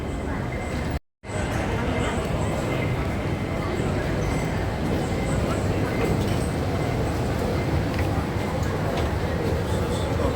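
Inside a Hong Kong airport train, a steady, loud rumble of the ride fills the whole clip, with one brief dropout near the start and voices mixed in.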